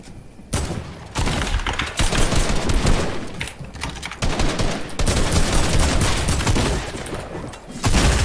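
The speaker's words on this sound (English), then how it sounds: "Where is he shooting me from?" Rapid bursts of gunfire from a trio arena match in a shooter video game, dense and loud almost throughout with brief lulls between volleys.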